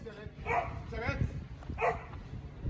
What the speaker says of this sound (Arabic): هو ده مارو الكلب اللي انت بتقول عليه؟